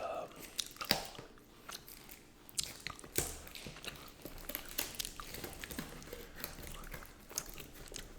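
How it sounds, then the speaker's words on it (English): Close, wet gum-chewing and smacking sounds with intermittent crunchy clicks, steady and intimate, no talking. "I'll be chewing gum in all these videos."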